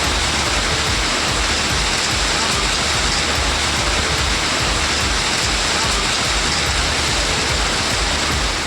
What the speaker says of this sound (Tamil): பலத்த காற்றுடன் கூடிய கனமழை பெய்ததால் குளிர்ச்சியான சூழல் நிலவியது